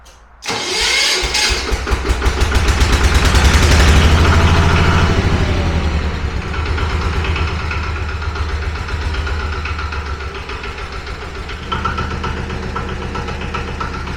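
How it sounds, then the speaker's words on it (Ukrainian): A walk-behind tractor's diesel engine cranks and fires up abruptly, rising to a loud, fast knocking clatter before settling into a steady close-up idle, with no talking. "Трошки газу дати, декомпресор і заводжу."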